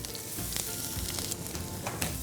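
Ginger and garlic sautéing in a pan for vegetable manchow soup, a close, loud hissing sizzle with brief bursts of crackle as the pieces are tossed and stirred.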